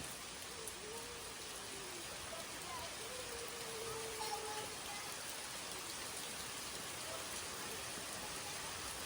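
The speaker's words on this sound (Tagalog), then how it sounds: "Grabe ng ulan mga kaisla." Steady heavy rain pours down on Boracay Island, Philippines, in a constant wash of broadband noise, with faint bird calls chirping through it.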